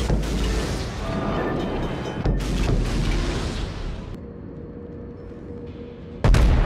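Warship combat in World of Warships, with a run of heavy booming torpedo explosions and rumbling blasts in the game, loud and layered, then a quieter stretch before a final sharp hit.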